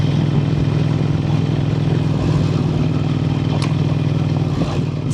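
A motorcycle engine drones loud and steady as it climbs a mountain pass in Upper Mustang, with a continuous low throbbing hum and faint rattling throughout.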